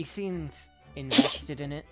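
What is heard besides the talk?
sneeze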